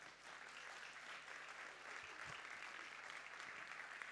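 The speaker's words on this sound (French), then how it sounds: "Je pense qu'on peut tous les applaudir." An audience applauds the prize winners of a school writing contest, the Cicéronnades, with steady, dense clapping that fills the hall evenly and continues throughout without talk.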